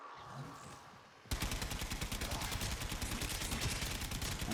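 After a quiet opening, a utility weapon in a video game bursts into rapid, sustained automatic fire, loud and close, with the rattling shots continuing unbroken to the end.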